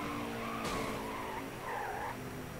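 Race car tires skidding and squealing as the car spins out on the first lap at Darlington in NASCAR Heat 5, a steady engine drone underneath with a sharp burst of tire noise partway through.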